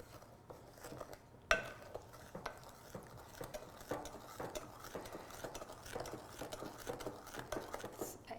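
Chocolate pie filling made with evaporated milk is stirred by hand in a bowl, giving a quiet, steady scraping and swishing with soft knocks of the utensil against the sides.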